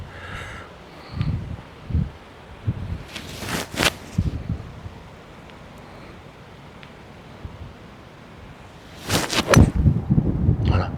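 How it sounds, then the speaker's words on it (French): Gusty wind buffets the microphone outdoors in low rumbling bursts, with a couple of louder whooshes and faint rustling in between. "Il y a du vent ce soir."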